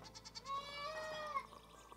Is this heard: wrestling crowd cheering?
no